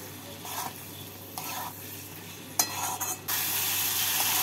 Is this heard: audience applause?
no